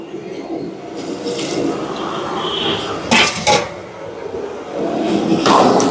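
Thin second- and third-press coconut milk is poured into a cooking pot: a soft, steady liquid pour with watery trickling and a couple of brief clinks of metal cookware, close by.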